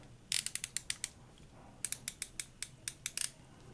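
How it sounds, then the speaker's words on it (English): A vintage quarter-inch drive torque wrench clicks as its handle is turned for adjustment, giving a close, crisp run of ratcheting clicks in two bursts separated by a short pause. "A little quarter drive torque wrench"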